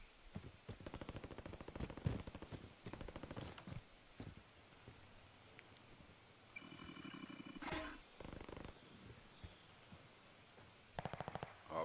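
Bursts of rapid automatic gunfire crackle in quick volleys, sharp and fairly close, with a brief mechanical whir midway and more shots near the end.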